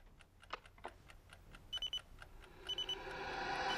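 Short beeping bursts from an alarm clock, two clusters of quick electronic beeps after some faint ticking and clicks, then a rising steady tone as it keeps ringing, fairly quiet with no voices.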